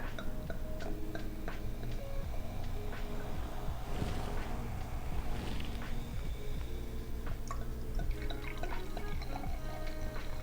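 Prosecco, an Armani Conegliano Valdobbiadene Prosecco Superiore from Veneto, poured into a glass as a steady liquid trickle with scattered drips and ticks over a constant low background hum.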